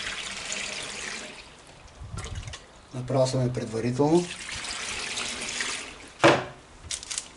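Water is poured into a jar of mixed vegetable pickles (turshia), an intermittent splashing trickle heard between bursts of someone talking.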